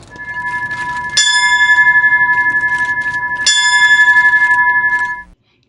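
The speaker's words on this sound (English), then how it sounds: "the bell rings 10 times in memory of and in tribute" A memorial bell tolls in tribute, two clear, ringing strikes heard here, each leaving a long sustained hum that fills the pause before fading out.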